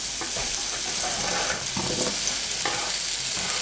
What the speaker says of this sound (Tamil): நம்ம நல்லா ரோஸ்ட் பண்ணணும் நெக்ஸ்ட்டு கொஞ்சம் ஆயில் விட்டு